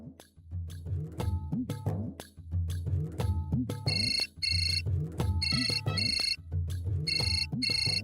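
A mobile phone rings with an incoming call, playing a melodic ringtone in repeated bursts of tones with brief gaps between them, loud and close.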